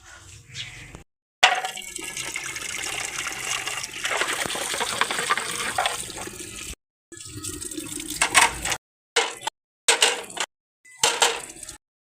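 Water gushes from a pipe into a garden bed in bursts, broken by short silent gaps, with clattering metallic knocks mixed in.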